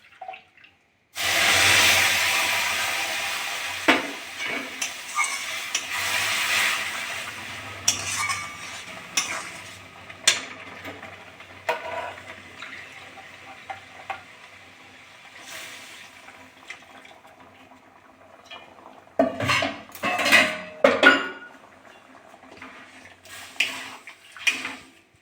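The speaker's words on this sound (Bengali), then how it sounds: "সুজিটা আমার ভাজা হয়ে গেছে, আমি এবার দুধ দিয়ে দেবো।" Milk added to roasted semolina in a pot for coconut semolina sweets: a loud pour and liquid rush at first, then quieter stirring and scraping, with bursts of clattering near the end.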